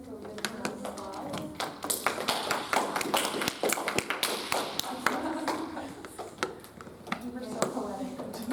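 An audience at a school debate event claps after a final speech, with a steady patter of hand claps carrying on for several seconds while people talk over it.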